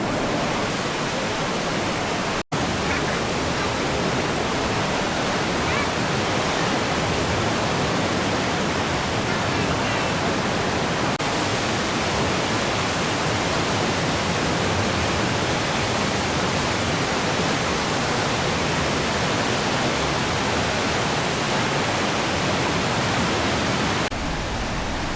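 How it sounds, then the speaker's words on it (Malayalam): Perumbankuth waterfall near Anakulam, among big rocks, pours as a steady broadband roar of rushing water that stays loud and unbroken throughout, with a single brief click early on. "ഈ കാണുന്നതാണ് പെരുമ്പാങ്കുത്ത് വെള്ളച്ചാട്ടം."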